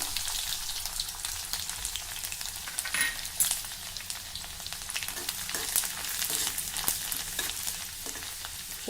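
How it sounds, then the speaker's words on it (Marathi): Chopped garlic and fenugreek seeds fry quietly in hot oil, a soft continuous crackling sizzle dotted with small pops and light stirring taps, close up with no speech. "थोडं परतून घेऊ हा लसूण थोडा हलका गुलाबी झाला"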